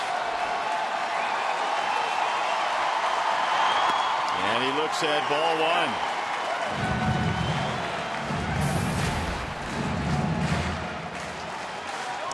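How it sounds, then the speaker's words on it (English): Baseball crowd noise at a Detroit Tigers home game against Cleveland, a steady roar of the stands with scattered cheering and clapping building slightly, heard under continuous play-by-play commentary. "Crowd starting to come alive."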